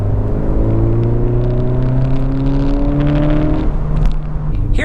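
A 1.5-liter turbocharged Acura Integra A-Spec with a 6-speed manual drives close by. Its engine hum climbs in pitch through the gears, loud and steady, then settles near the end.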